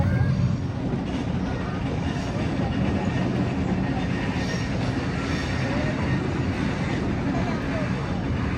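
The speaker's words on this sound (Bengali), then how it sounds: "ট্রেন যায় এই ব্রিজটার উপর দিয়ে" A train crossing a bridge in Interlaken, Switzerland produces a steady, loud broadband rumble and roar of wheels on track that holds evenly throughout.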